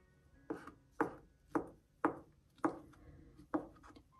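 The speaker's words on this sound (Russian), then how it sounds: "Яйца, как и лук, нарежем мелким кубиком." Knife chopping boiled eggs into small dice on a wooden board: six crisp, evenly spaced cuts about half a second apart, close and clear with no talk.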